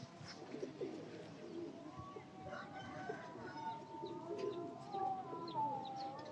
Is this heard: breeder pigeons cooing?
yes